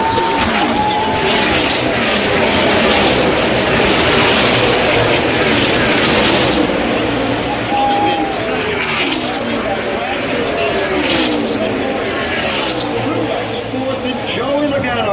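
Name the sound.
NASCAR race cars at the Auto Club 400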